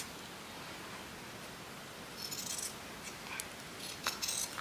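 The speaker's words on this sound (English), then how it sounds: "I'm going to cut this bit off because I'm going to just sew it directly on there." Scissors cutting through paper packaging, crisp snipping bursts arriving late after a quiet stretch, close and fairly loud, a few separate cuts in quick succession.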